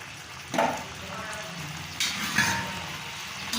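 Hilsa fish in a mustard roast cooks in a pan over low to medium heat, giving a soft, steady sizzle with a couple of brief louder bursts of spitting oil.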